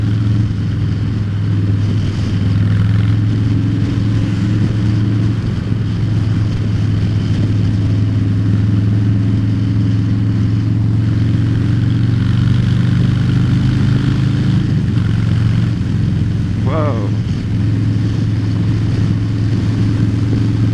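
A 2020 Low Rider S motorcycle engine drones steadily while riding in traffic, a loud low rumble with wind noise and a brief rise in pitch late on, continuous and close throughout.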